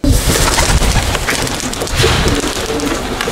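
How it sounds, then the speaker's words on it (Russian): Pigeons at a home-built dovecote make a dense, continuous rustling and fluttering, with busy wingbeats and scratchy movement filling the whole stretch at close range, and no talk over it. "Все пернатые знают своего хозяина в лицо и всегда возвращаются в родной голубятник"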